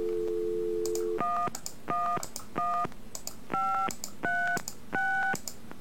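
A telephone handset plays a steady dial tone, then a run of six evenly spaced touch-tone keypad beeps, each a clear, loud two-note chirp, heard alone without talk.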